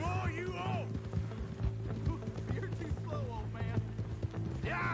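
Horse hooves clip-clopping at a quick pace in Red Dead Redemption 2, a steady rhythmic patter under game music and noise, with speech heard over it and a brief whinny-like sound near the end.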